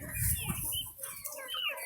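Young Muscovy ducklings, partly feathered with down still on their heads, give a close, steady run of high chirping peeps and soft calls with no talking.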